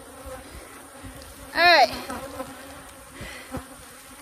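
Honeybees buzzing around a hive outdoors near a pig pen, a steady low insect hum with a brief louder swell as bees pass close, under one short spoken word.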